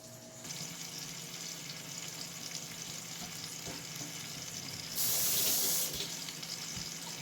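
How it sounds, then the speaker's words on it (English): A cheeseburger patty sizzles in a hot pan, a steady crackling fry close by with a louder burst of hissing partway through, and no talking. "As you guys can see, it's sizzling."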